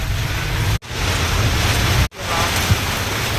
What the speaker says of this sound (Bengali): অন্য লেভেলের বৃষ্টি হচ্ছে, দেখা যাচ্ছে না